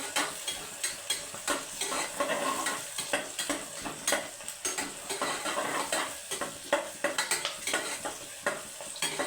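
Tomato bath for a morning breakfast, made simply without masala, being stirred and fried in a pan: steady sizzling with repeated scraping strokes of a spoon, close and without any talk.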